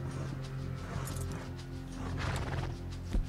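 A horse in the video game Red Dead Redemption 2 gives a short neigh over a steady, layered game soundscape, moderately close and not very loud, with no talk.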